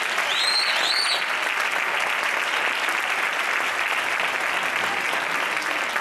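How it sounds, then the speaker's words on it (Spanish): Sustained applause from an audience at a cofrade religious-music gathering in Mengíbar, held steady and fairly loud for the whole stretch, with a few faint whistles near the start. "Un aplauso para Antonio Miguel Espinosa"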